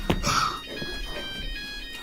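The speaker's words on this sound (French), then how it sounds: "il me saoule avec son téléphone" A mobile phone rings with a steady, repeating electronic tone through the whole short stretch, close by, while people talk loudly over it.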